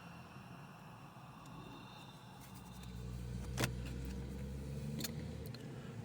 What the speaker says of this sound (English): there's a truck going past